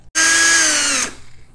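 A step drill bit bores through a metal computer case in one continuous high whine of about a second, loud and close, with the pitch sliding slightly downward before cutting off abruptly.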